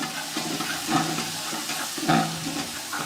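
About 300 grams of onion fry in a pan for avarekalu palav, giving a steady, close sizzle broken by a couple of soft stirring scrapes.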